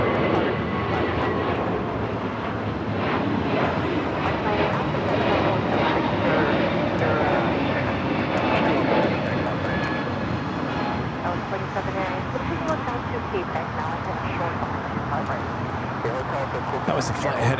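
An Airbus A321neo jet taking off from runway 25 right at LAX, a steady, broad engine roar that lasts throughout while someone talks over it.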